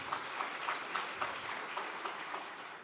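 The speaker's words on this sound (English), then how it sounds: "Please give yourselves a resounding round of applause." A full room at a public service celebration breaks into sustained applause, a thick, continuous wash of clapping that stays even from start to finish.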